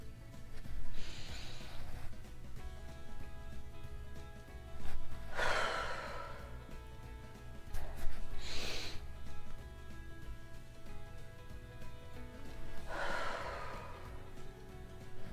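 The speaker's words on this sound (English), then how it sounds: "exhale slowly for 8 seconds through your mouth using a whooshing sound" Slow deep breathing exercise: a few long whooshing breaths are audible, each a soft airy rush, spaced several seconds apart over a low steady hum, with no talk.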